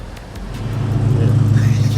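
Another car's engine passes on a late-night Miami street around 3 a.m., a low rumble swelling steadily louder and nearer over two seconds.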